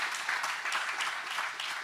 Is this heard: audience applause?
yes